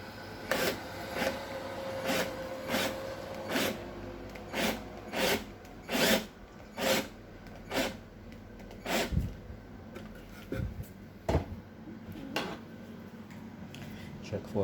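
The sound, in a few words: power drill drilling wood with taped depth-limited bit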